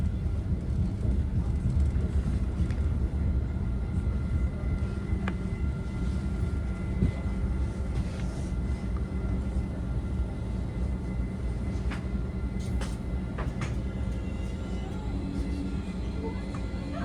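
Caltrain Northbound Limited train 425 pulling into San Mateo Station at dusk: a steady low rumble and rolling hum of the rail car, with faint squeals and clicks from the track, continuous and fairly loud throughout, heard from on board.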